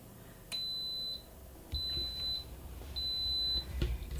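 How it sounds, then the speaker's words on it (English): An Instant Pot gives three evenly spaced, high electronic beeps after its yogurt button is pressed. Each tone is clear and sustained, with faint handling clicks between them in a quiet room. "You'll hear the beeps."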